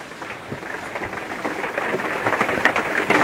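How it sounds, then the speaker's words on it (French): Steady rain falls outdoors, a dense broadband patter that slowly builds, with a few sharper drips standing out near the end. "donc là, il pleut, je vous mens pas"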